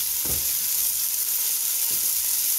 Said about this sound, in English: we're just going to let that saute for probably 3 to 4 minutes until the onions become translucent